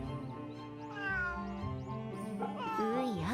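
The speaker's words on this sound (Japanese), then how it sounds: "Nope. Kitty." A cat meows repeatedly in the video game Fate/Samurai Remnant, several drawn-out rising and falling meows, close and clear over soft background music.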